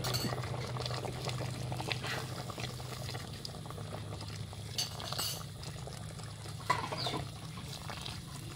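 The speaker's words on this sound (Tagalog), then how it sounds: "Lagyan natin ng tubig." Water poured into a pot for a noodle dish being cooked outdoors, a steady low watery rush and bubbling with occasional clinks of metal or glass, mid-distance and fairly quiet throughout.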